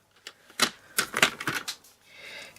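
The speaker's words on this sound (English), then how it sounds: "Align your blade with the cut line on there. Cut all the way down." Trimmer blade slides down through cardstock on a paper trimmer, a quick series of sharp close clicks and scrapes followed by a softer trailing swish.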